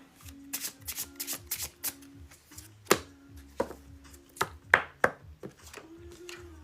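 Tarot cards are shuffled by hand, giving a quick run of close, crisp riffling flutters followed by sharper slaps and taps as cards are cut and pulled, with a soft low hum underneath.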